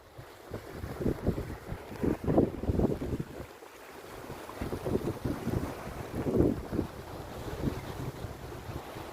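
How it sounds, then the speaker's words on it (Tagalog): Wind buffets the microphone in low, rumbling gusts that rise and fall continuously, loud and close, with a faint rushing background. "Mahangin ulit."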